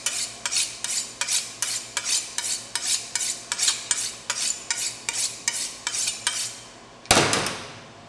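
A knife cutting into pâté with repeated rhythmic strokes, about a dozen evenly spaced scraping cuts close by, followed by one louder clattering burst at the end.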